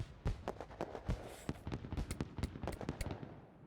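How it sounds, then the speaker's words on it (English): Fireworks sound effect from a level-up in an online game: a rapid, irregular string of sharp crackling pops and bursts, loud and close, running throughout with no talking. "Fireworks, fireworks, fireworks."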